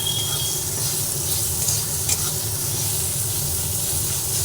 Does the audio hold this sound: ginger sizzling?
yes